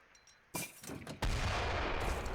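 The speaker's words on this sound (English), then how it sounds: "does my cannon get within range of that?" Cannon fire in the real-time strategy game Age of Empires III: Definitive Edition, during a one-on-one match between Malta and Italy: one sharp blast, then a second, heavier boom that rumbles on continuously, loud and close, with no talk.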